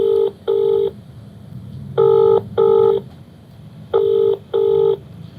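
Telephone call to a viewer: three pairs of bright, steady tone bursts repeat in a regular double-pulse ring pattern, loud and clear over a low background murmur, with no talking.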